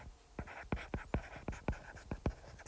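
A pen scratches across a paper worksheet in quick, evenly spaced strokes, about a dozen short scrapes heard close and quiet with no talking.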